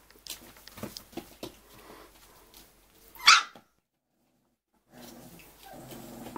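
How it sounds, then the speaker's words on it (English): Young puppies bark and yip in a short scuffling burst, with small paws pattering around them, capped by one sharp louder yelp before a brief silence and renewed rustling. "These are Pearl's pups."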